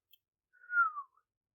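A reader imitates a low whistle, one short soft gliding tone that falls slightly in pitch, heard alone against silence.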